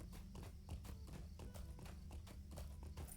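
Horse hooves clip-clop in a steady, rapid rhythm in the online fantasy game Lord of the Rings Online (LOTRO), close and continuous throughout over a low ambient music bed.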